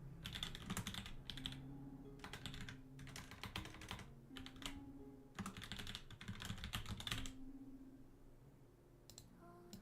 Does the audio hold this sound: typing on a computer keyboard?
yes